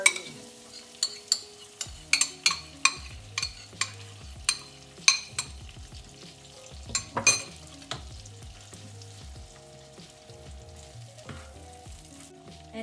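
Spanish sardines sizzle in a frying pan while being stirred, a steady close hiss punctuated by a dozen sharp clicks and scrapes of the utensil against the pan, with no talk.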